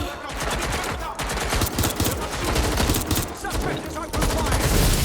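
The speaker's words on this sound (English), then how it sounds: "Suspect is open fire!" Sustained, loud automatic gunfire in Watch Dogs Legion, dense rapid bursts of shots firing nearly continuously up close, with brief shouted voices mixed in.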